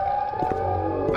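Siren Head from the Siren Head Remake video game gives a loud, wailing siren call with a steady tonal blare and a low underlying drone.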